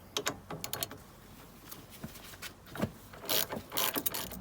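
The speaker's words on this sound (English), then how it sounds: "Undo the anti-roll bar drop link with a 17mm." A 17mm socket on a ratchet undoing a car's rear anti-roll bar drop link, heard as a close run of quick metallic clicking bursts with short pauses between them.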